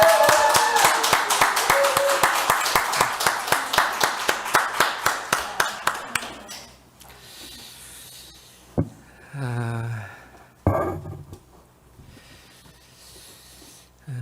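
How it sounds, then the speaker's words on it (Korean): A church congregation claps together in steady rhythmic applause that gradually fades out, followed by a few soft rustles and a brief voice. "박수로 한번 격려하겠습니다."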